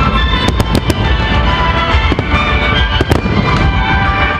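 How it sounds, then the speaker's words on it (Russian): A ten-minute fireworks salute closing a ceremony at the Kremlin Palace bursts loud and continuous, with sharp bangs and dense crackling over a steady roar. "Завершилась торжественная часть 10-минутным салютом."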